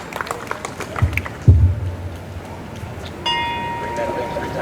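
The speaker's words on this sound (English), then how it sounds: "So we're going to ring this bell in honor of our new angel wings at G.A.R." A ceremonial bell is rung at a G.A.R. Memorial Hall ribbon-cutting ceremony, one clear strike ringing out with a long sustained tone near the end after a stretch of talking and background bustle.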